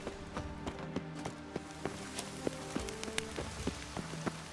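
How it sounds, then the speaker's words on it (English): Steady rain patters in The Witcher 3: Wild Hunt, with a dense shower of drops punctuated by sharper splashes and hoof-like knocks at irregular intervals, moderately quiet throughout. "वैसे साला रेन ही हो रही है वो"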